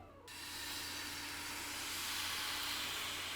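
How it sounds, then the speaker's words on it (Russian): Thin crepe batter hits a hot frying pan with a sudden loud sizzle that holds as a steady, close hiss. "Выливаем на сковороду."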